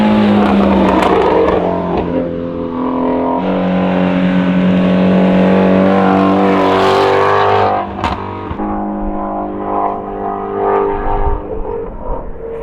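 A carbon-fiber Speedkore-built Shelby GT350R Mustang engine roars and revs hard up through the gears, loud and close, with brief drops between shifts before pulling again.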